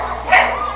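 A corgi racing in a flyball event gives a single sharp, close bark over steady background noise from the arena.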